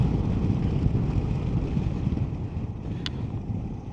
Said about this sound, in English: It's all wind because of a different type of windshield.